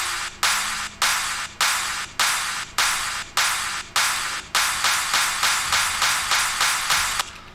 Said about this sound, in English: The snare roll is just a drum pattern that builds tension by adding more notes the closer you